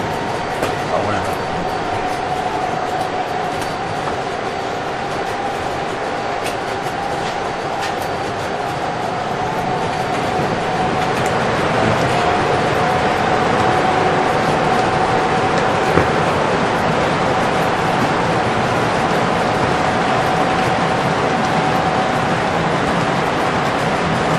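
A Midland locomotive runs on the KTMR model railroad, a continuous steady mechanical rumble and whir with a faint whining tone, growing slightly louder midway.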